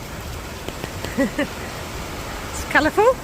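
Steady rain hisses on a hiking trail up a valley on South Korea's Namparang Trail, with a few brief chirpy calls and a short spoken remark over it.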